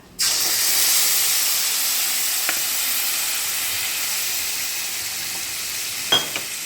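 Tamarind pulp poured into hot tempering oil for a fish curry, bursting into a loud, steady sizzle and hiss that carries on for several seconds, with a faint tap of a utensil and a clink near the end.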